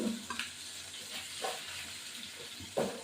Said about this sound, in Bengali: এই যে বেশি ভাজবো না মাছ, আর ইলিশ মাছ বেশি ভাজতেও লাগে না